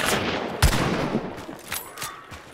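Gunfire in a video game shooter, a sharp close shot followed by a scattered series of fainter distant shots and impacts over a low ambient background.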